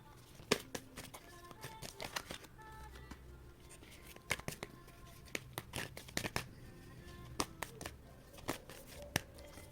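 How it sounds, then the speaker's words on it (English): Quiet, intermittent riffling and flicking of tarot cards being shuffled, soft papery snaps repeating at irregular intervals. "One more shuffle."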